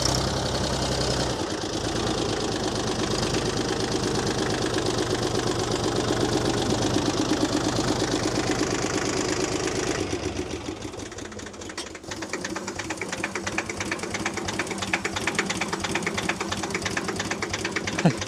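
An engine at a fast idle, likely a tractor or loader working at an Easter bonfire while in a high gear. Its steady chugging runs throughout, then sags and roughens around the midpoint as it nearly stalls before picking back up.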